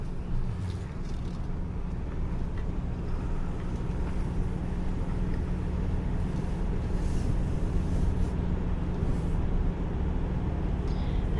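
A car drives slowly through the campground at Cheaha State Park near Delta, Alabama. A steady, low engine and road rumble continues throughout at an even level, heard from inside the vehicle, with no speech.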